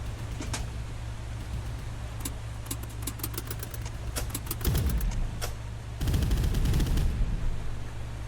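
Rapid bursts of automatic gunfire crackle in the Boat Crew video game, sharp repeated shots in clusters over a low engine drone, growing denser toward the end.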